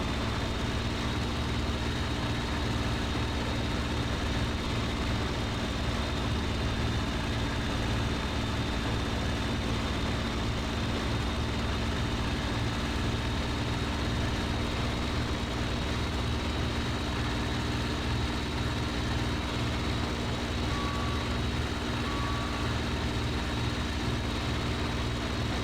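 A Bf-109F fighter plane's engine roars during takeoff in the 2001 flight game IL-2 Sturmovik: a loud, continuous droning hum that holds steady throughout.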